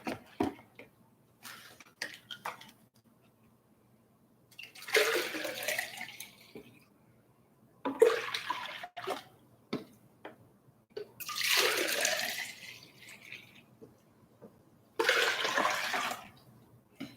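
Water poured into a beet lemonade mixture sweetened with Truvia, four separate splashing pours of several seconds each with quiet gaps between, close and clear.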